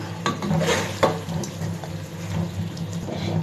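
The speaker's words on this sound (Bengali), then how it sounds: "তেলটা উপরে চলে আসলে এরকম পর্যায়ে দিয়ে দিচ্ছি কিছুটা চিনি নেড়ে চেড়ে একটু মিশিয়ে নিচ্ছি" Sugar being stirred into a chicken roast simmering in its own risen oil: a spoon scrapes and knocks around the pot in a few sharp strokes over a soft, steady sizzle, close by with no voices.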